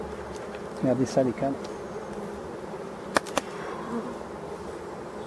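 Bees drone steadily around abandoned, rotten forest hives, a close continuous buzz with a few louder passes near the ear while someone speaks briefly over it.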